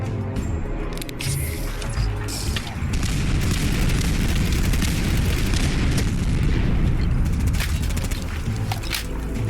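Heavy, continuous booming of an explosive barrage in heavily modded Fallout 4, dense rumbling blasts and crackling impacts rolling on for several seconds, loud and close, with a man muttering over it.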